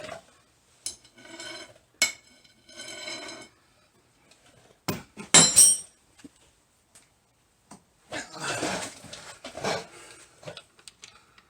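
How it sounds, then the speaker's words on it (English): A metal nut dropped while working on a C4 Corvette rings out in a sharp, bright clatter, preceded by quiet tool clicks and followed by a few small rattles in a quiet garage. "And I drop the nut."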